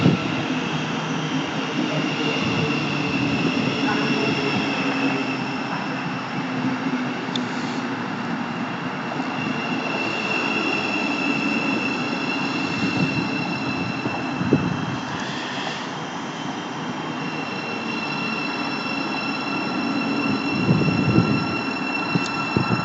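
Class 700 electric train 700-049 runs through Mill Hill Broadway station with a sustained rumble and whine, and a steady mechanical drone that swells slightly near the end.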